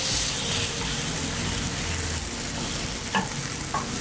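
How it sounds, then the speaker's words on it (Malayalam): Chicken curry masala sautéing in oil in a pan, a loud, continuous close sizzle and frying hiss with stirring scrapes and a couple of brief knocks. "ഇത് എണ്ണ തെളിയുന്ന വരെ ഒന്ന് വഴറ്റേണ്ടതുണ്ട്"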